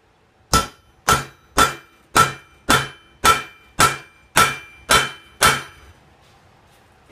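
Ten evenly spaced, ringing hammer blows on a railroad spike, punching a hole while forging a viking axe; each strike is sharp and metallic with a short decay, loud and close, with no talk.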